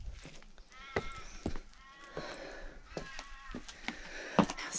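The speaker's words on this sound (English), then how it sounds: "Goats. That's goats." Goats bleating outdoors near Kalbarri, several short wavering calls scattered at moderate distance over a steady breezy background, with faint voices now and then.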